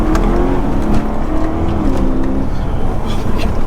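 A modified 1000-horsepower car engine roars continuously from inside the cabin while driving, a deep steady drone with slight rises in pitch.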